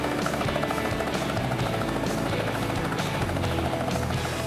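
A loud, close helicopter flying through the Needles with a constant rotor thrum and engine whine that fills the whole stretch without letting up.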